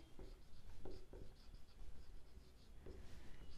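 Chalk or marker strokes scratch across a classroom board in short bursts, faint and close, with quiet pauses between strokes.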